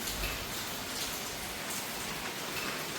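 Heavy rain pours down in a steady, dense hiss with no letup, close and loud enough to fill a flower pot with water.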